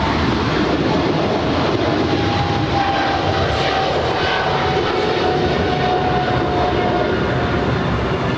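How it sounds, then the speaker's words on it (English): A Japan Airlines heavy jet departs Los Angeles International Airport bound for Tokyo Narita, its engines roaring loud and close in a continuous, unbroken wash of sound. "there goes Japan Airlines 61 on its way to Tokyo Narita"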